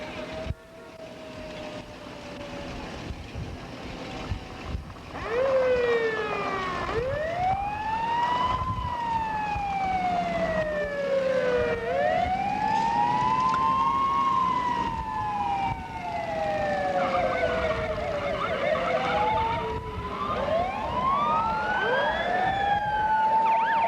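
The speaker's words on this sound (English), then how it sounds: "Of course, you've seen the emergency rescue van going by." An emergency rescue van rolls past in a 1986 centennial parade in Lamar, Colorado, its siren wailing in long rising and falling sweeps, loud and close over a steady crowd-and-street rumble for the whole stretch.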